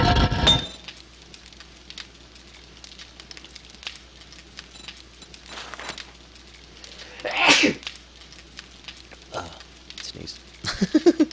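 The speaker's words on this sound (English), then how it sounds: "Sneeze." A single sharp sneeze bursts out over quiet background during a 7 Days to Die gaming session, followed later by a few brief clicks and clinks.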